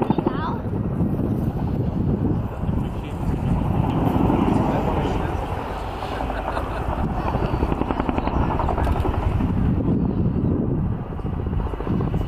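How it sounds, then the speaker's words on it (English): A Chinook helicopter flies a display at an air show, its heavy rotor thudding and engine roar loud and continuous throughout, mixed with wind noise on the microphone. "From high altitude to low altitude, the Chinook has a great acceleration capability."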